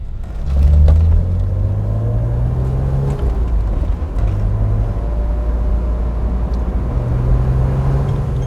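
A 1999 BMW E36 M3 Cabriolet with a 3.2 engine and six-speed manual, driving with the top down, its engine droning steadily with rising and falling pitch as it shifts through gears, loud and close, no talking.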